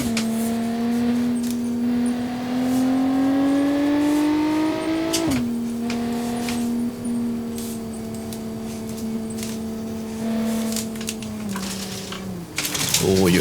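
Crown Model 17, a middle-aged sports car driven in BeamNG, with a steady engine drone that climbs under acceleration, drops abruptly with a gear change, then holds a sustained tone before easing off near the end.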